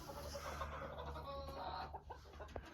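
Small dwarf Cochin chickens cluck and chatter close by, with several short clucks toward the end over a low background hum.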